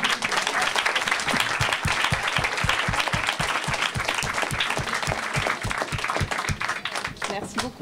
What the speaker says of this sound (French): on peut applaudir Emma